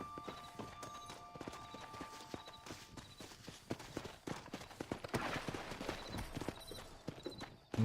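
Steady clip-clop of horse hooves at a brisk walking rhythm, moderately close, with faint ambient sounds and a brief low tone at the end, in the video game Red Dead Redemption.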